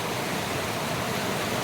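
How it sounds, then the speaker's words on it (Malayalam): Madatharuvi waterfall pours in a steady, dense roar, close and constant, with no voices over it. "ഏതുണ്ട് മാടത്തരുവിലെ വെള്ളച്ചാട്ടം"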